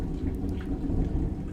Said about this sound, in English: That thunder is, it's getting close.